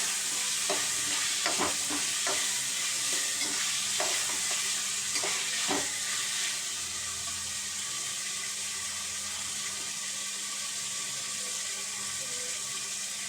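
Food sautéing in a pan with rock salt, a steady hiss under a run of spoon scrapes and clatters in the first half, then a quieter continuous sizzle alone.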